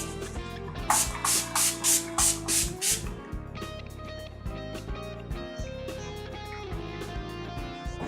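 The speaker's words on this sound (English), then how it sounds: "And with some finishing spray from Urban Decay." Six short bursts of Urban Decay makeup setting spray hiss in quick succession, then music carries on without them.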